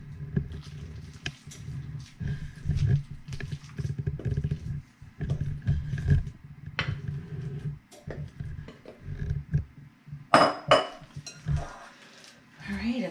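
Hot crab dip is scooped and transferred into a baking pan, a long run of irregular scraping and clinking of utensils on metal and dishes, close and moderately loud, with soft talking mixed in.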